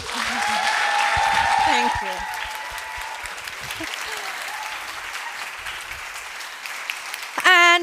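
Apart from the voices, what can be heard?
audience applause at summit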